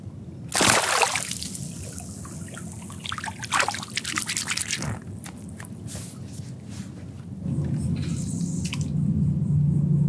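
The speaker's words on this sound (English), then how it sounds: "Let's put it back in the water." A black drum caught in mangrove shallows is released back into the water, giving splashes, trickles and drips with a wet squish near the start, then quieter dribbling and a low steady rumble, under occasional voices.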